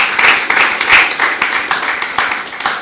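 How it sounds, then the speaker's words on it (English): A conference audience applauds its volunteers with a dense, loud, continuous wash of clapping that fills the whole stretch. "Please, with a round of applause, celebrate them"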